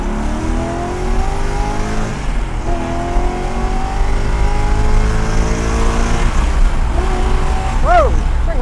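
1963 split-window Corvette engine revving up to about 6,300 RPM, a loud nearby V8 climbing in pitch through repeated rising pulls, with a voice breaking in near the end.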